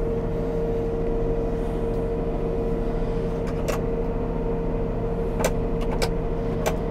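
A Zetor HD 170 tractor engine hums steadily at idle and pulls away, a constant close drone with a few faint clicks and rattles over it.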